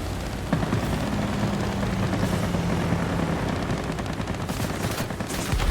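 Aircraft cannon fire in a flight combat video game, with rapid bursts of gunfire over a droning engine and some crackling impacts toward the end, heard without speech.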